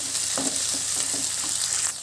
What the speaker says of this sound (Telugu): ఒకసారి ఇలా ఫ్రై చేయండి ఇందులో కొద్దిగా కరివేపాకు వేసుకున్నాము కొద్దిగా బటాని వేగితే సరిపోతుందండి